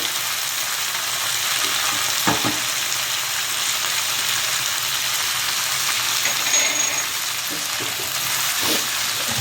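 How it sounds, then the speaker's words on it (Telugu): Garlic frying in oil in a pan while making pudina tomato chutney gives a steady, loud hiss of sizzling with a few soft stirring knocks, close up and continuous, with no voices. "తర్వాత ఎల్లుల్లిపాయలు, వేయించేసాను"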